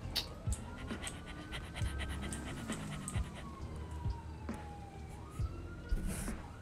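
Panting from a dog in GTA 5 roleplay, a quick rhythmic breathing spread through the scene, layered with a wailing police siren and other game sounds.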